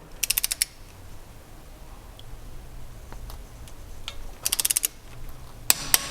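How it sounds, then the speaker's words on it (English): A small torque wrench ratchets in short rapid bursts of clicks while tightening the bolts of an ARB differential cover to 30 foot-pounds, with quiet pauses and faint handling noises between bursts. "these now get tightened down to 30 foot-pounds of torque, which I'm going to do here on my little torque wrench"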